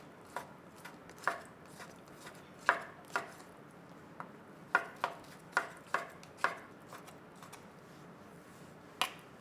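A knife slices shiitake mushrooms on a cutting board in about a dozen crisp, separate taps at an uneven pace, close and fairly quiet against a faint room hiss.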